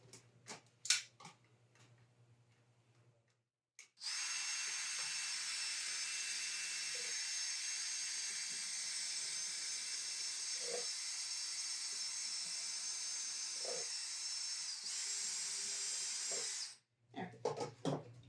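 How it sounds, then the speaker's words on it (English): A hand drill runs through a stack of red Solo plastic cups, making one long, steady, hissing whine that lasts about thirteen seconds before stopping. Quiet handling noises come before and after it. "I'm just going to drill 4 holes."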